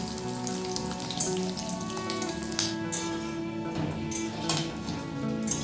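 Egg fritters frying in a pan over a low gas flame give a steady, close crackling sizzle with scattered pops that runs throughout, and no one speaks.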